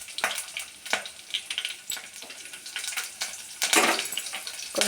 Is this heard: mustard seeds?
yes